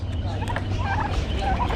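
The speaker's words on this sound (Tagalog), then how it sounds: "Ayan, may pabo." A turkey gobbles in a quick warbling burst at an animal market in Kuwait, close and fairly loud, over a low steady background hum.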